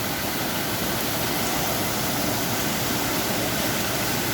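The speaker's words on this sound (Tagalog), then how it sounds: "Walang tigil ang ulan." Steady, dense downpour hisses without a break, a continuous roar of heavy rain with no voices.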